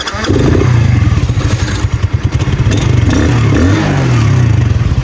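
Alpha and another moped on a dirt ride to a neighbouring village, a close, loud single-cylinder engine putters and revs in a rapid pulsing rhythm, rising and falling as the bikes pull away.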